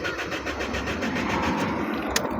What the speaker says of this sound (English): 2000 Honda CRV cranks, but no start.